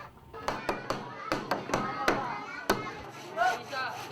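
Hammering on wood during classroom construction gives sharp, irregular knocks, some in quick pairs and others spaced apart, while people talk nearby.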